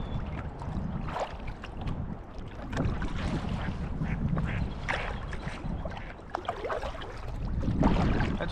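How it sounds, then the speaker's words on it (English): Ducks quack near a kayak paddling on the water at Tawas Point in East Tawas, Michigan, with scattered calls over wind buffeting the microphone and soft water sounds, no talking. "Now those are obviously ducks that have been around people."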